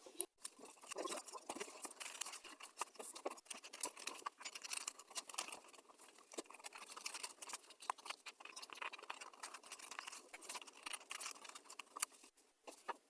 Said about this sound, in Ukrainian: Спочатку ми повинні вирізати по контуру.